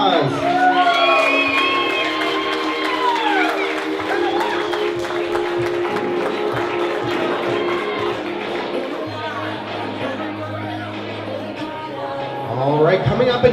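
Wedding guests cheer and whoop at a reception, with clapping and lively crowd noise filling the room while talk and music carry on underneath, before a burst of louder applause near the end.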